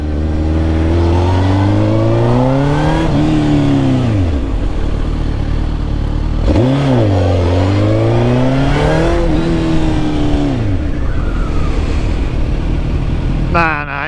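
A Suzuki GSX-R1000 sportbike engine revs hard in repeated rising and falling sweeps, loud and close, with brief drops back toward idle between pulls.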